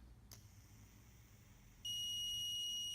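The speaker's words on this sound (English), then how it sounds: "the buzzer is activated" After a click and quiet hum, a gas detector's high-pitched electronic buzzer suddenly starts and sounds continuously, loud and close, on a smart home simulation board.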